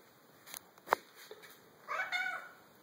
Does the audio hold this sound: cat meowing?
yes